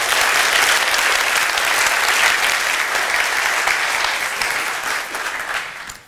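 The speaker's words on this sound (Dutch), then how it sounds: "Een applaus voor Immanuel." An audience at a Veritas Forum debate applauds a speaker: dense, sustained clapping from a sizable crowd that holds steady for several seconds and then tapers off and stops.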